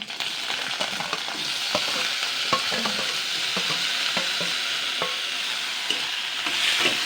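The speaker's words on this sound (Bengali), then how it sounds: "তো এই রিফাইন্ড তেলটা কিন্তু গরম হয়ে গেছে। এবার আমি সেদ্ধ করা আলু দিয়ে দিচ্ছি।" Boiled potatoes sizzle steadily in hot refined oil, a continuous loud frying hiss. Occasional stirring clicks and scrapes break through it, and no one talks.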